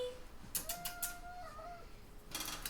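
A pet cat gives a soft, drawn-out meow at a moderate distance, with brief rustling and tapping noises in a quiet room.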